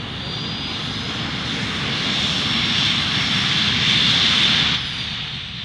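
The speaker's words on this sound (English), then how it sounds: "So just full power on the jet engines." A three-engined jet Pitts biplane runs its jet engines at full power, a loud steady roar with a high whine that swells slightly midway and eases near the end, with no talking.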